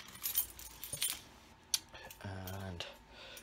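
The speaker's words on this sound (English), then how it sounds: "Yeah, need my keys." A set of keys jangles close by in several short metallic bursts, with a brief voice partway through.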